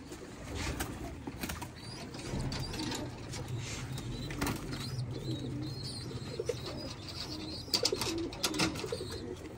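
Soft pigeon coos murmur among faint clicks and rustling, a low continuous background of birds close by with no talking.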